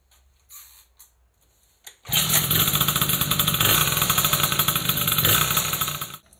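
An MBK 51 moped engine catches after a couple of faint attempts, then runs loudly and steadily at close range for several seconds before cutting off.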